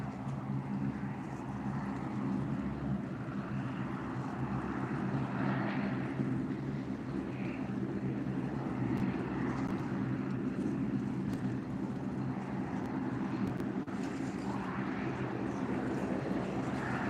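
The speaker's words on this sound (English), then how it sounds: "you're going to see a plane. So this is Air Canada Express." An Air Canada Express propeller plane taking off from Billy Bishop Airport on the Toronto waterfront, heard from a distance as a steady, broad engine drone that holds throughout.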